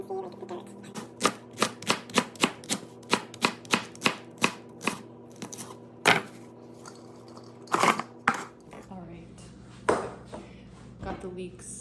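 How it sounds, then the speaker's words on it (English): A knife chopping leeks on a cutting board, a steady series of sharp rhythmic knocks that becomes sparser and more irregular toward the end. "Got the leeks cut and washed."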